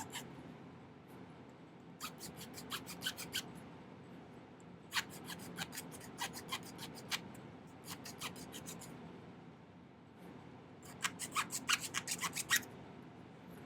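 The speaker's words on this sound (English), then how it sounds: "I think if we file inwards from the back, right here, right next to this" A hand file worked across a wooden Cupid's bow in quick bursts of rasping strokes separated by short pauses, close and crisp against a quiet room, with no speech.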